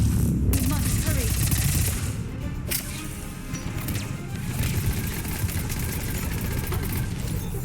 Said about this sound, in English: it has a lot of recoil, but it's still a pretty good gun